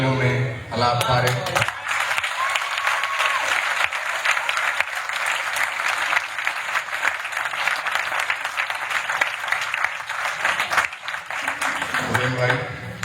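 An audience applauds after a performance of Urdu ghazals, sustained loud clapping for roughly ten seconds, with music and voices at the start and end.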